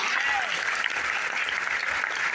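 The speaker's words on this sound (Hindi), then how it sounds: "बताइए तालियां वेलनेस इंडस्ट्री के लिए" Audience applause at a business plan seminar for the wellness industry, a continuous even wash of clapping from a seated crowd throughout.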